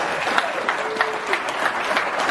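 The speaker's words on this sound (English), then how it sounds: "how about a huge round of applause for these guys?" Crowd applauding at the Ohio Bigfoot Conference, loud, dense clapping with a few sharper individual claps and faint crowd voices mixed in.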